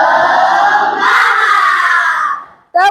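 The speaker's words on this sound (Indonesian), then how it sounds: "Oke, tepuk semangat." In an Indonesian school classroom during a Pythagorean theorem lesson, a class of pupils loudly shouts a spirit chant in unison. The loud group voices carry on for over two seconds, fade, and are followed by a sharp final burst.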